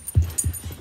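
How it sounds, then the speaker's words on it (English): A second house dog makes short low whimpers and yips, three brief bursts close by with no talking, in a carpeted home. "here's our other dog, Daisy"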